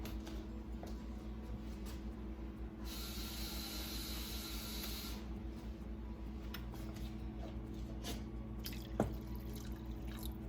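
Water pours into a cooking pot of braised short ribs, a brief broadband hiss of a few seconds with faint drips over a steady low kitchen hum, fairly quiet and with no talking.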